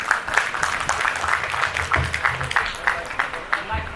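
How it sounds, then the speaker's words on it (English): An audience claps for 7th semester medical students at a doctors' welfare society event, a dense run of hand claps that carries on steadily, with some voices mixed into the applause. "Let us clap for them."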